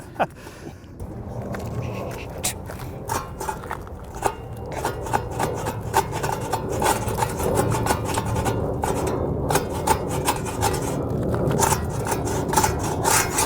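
A Japanese saw cuts through a log outdoors, giving quick, scratchy rasping strokes in an uneven rhythm, close and fairly loud, with some voices mixed in.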